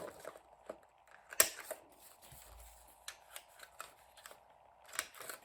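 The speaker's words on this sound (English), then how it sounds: "I'm also going to use a corner punch here on these 2 corners on the bottom" Corner punch rounding the bottom corners of a paper envelope flap during a craft project, giving a few sharp snipping clicks between lighter paper rustles and handling noises, close and fairly quiet.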